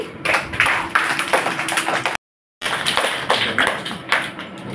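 Children clap for first and second prize winners, a dense, lively patter of many hands close by that stops abruptly for a short silent gap before resuming.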